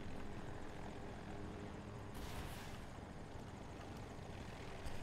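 A helicopter in the Battlefield 2042 shooter game whirs in a steady, faint rotor drone with a brief swell of noise partway through, no voices.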